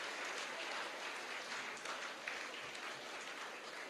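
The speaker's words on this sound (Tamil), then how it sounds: "இந்த கைத்தட்டல் எல்லாம் கிளாஸ் எடுக்கிறவங்களுக்கு." Audience applause in a hall during a Tamil motivational speech, steady broadband clapping that holds evenly at a moderate level for the whole stretch without any voices over it.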